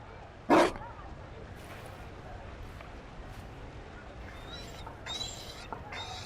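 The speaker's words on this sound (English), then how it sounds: "You found a dog?" A single short dog bark rings out in the Dragon Age Inquisition video game, followed by faint whimpering yips over a steady background hum.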